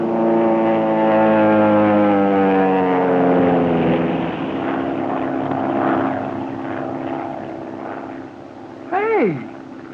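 A low-flying propeller airplane roars overhead in a radio drama, loud at first, then fading into a steady distant drone, with a brief swooping whine near the end.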